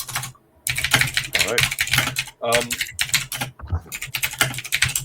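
Loud, rapid typing on a computer keyboard, clattering keystrokes in fast bursts with brief gaps, while a person speaks over it.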